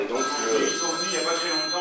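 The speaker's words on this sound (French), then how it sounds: "ça c'est le téléphone" A telephone rings indoors with a steady electronic tone that runs under continuous French speech for the whole stretch.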